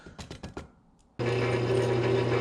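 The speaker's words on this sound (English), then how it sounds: "It looks like I've got 3 holes to drill." A few short taps, then a power drill with a 3/16 bit starts abruptly, drilling into steel at a steady whine, loud and close.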